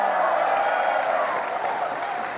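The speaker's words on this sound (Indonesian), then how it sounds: "tepuk tangan" A studio audience on an Indonesian TV talk show breaks into applause, loud dense clapping that fades slightly toward the end, with no voices over it.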